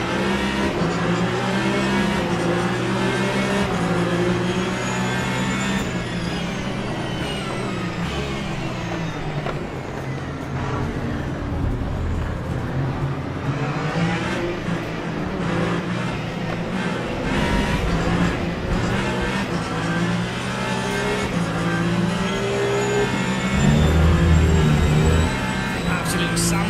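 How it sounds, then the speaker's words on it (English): Hypercar engines roar through a race at Interlagos in a racing video game, a dense, steady blare of high-revving motors with rising and falling pitch as cars jostle, tires squealing at moments, loud and continuous throughout. "Time for 40 minutes of Interlagos in the hypercar."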